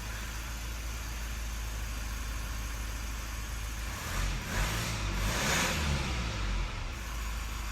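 A Mazda 3 engine running steadily at idle after fuel-line work, a constant close-up hum with a slight rise in the middle, no talk over it.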